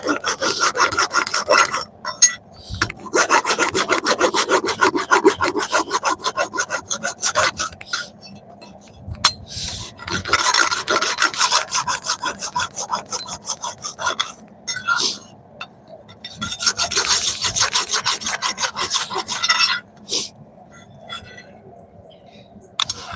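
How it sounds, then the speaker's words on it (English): A rasp files the weld surface of a forged splitting axe in long runs of fast, rhythmic scraping strokes, close and loud, broken by short pauses and occasional light clinks. "Just with a rasp."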